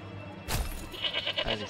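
Goats bleat in the medieval village of the video game Manor Lords, one short bleat followed by a few quick wavering calls over a low background hum, with no speech.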